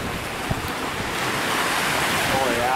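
Ocean waves surging onto a pebble and boulder beach, a steady broadband wash that swells slightly louder toward the end, with wind buffeting the microphone throughout.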